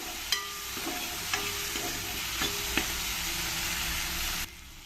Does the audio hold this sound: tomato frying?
yes